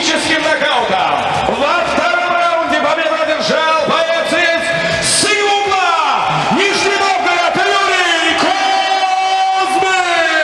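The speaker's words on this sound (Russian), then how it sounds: "Овации зал." An arena crowd at a professional fight event roars and whoops after a technical knockout win, loud sustained shouting and cheering with a voice calling out over the din.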